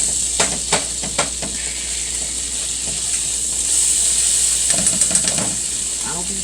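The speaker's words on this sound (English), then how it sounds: "Breaking it down and trying to push it down with this fork." Cream cheese is stirred and mashed with a plastic fork in a hot pan on a home stove, giving a constant sizzling hiss punctuated by a few clicking scrapes and taps.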